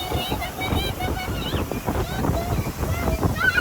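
Waves slap and splash against a swan-shaped boat with a five-liter outboard motor in Los Angeles, amid rain, gusty wind noise and engine rumble, with voices talking faintly in the background.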